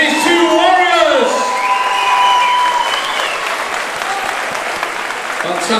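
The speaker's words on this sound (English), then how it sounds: "big round of applause, please, for these two warriors" A crowd at an amateur combat sports fight night applauds loudly after a bout, with cheers, whoops and high-pitched shouts rising over steady clapping and some overlapping voices.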